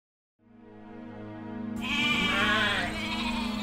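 Sheep bleating on their way toward a forest with a shepherd: one long, wavering bleat rises from silence and grows louder, with a second animal joining partway through, close and clear with no talking.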